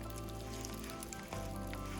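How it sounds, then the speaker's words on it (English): Hail falling outdoors at an elk camp, a dense continuous crackling patter like hard rain striking surfaces, steady and fairly loud throughout with no talk. "This is hail."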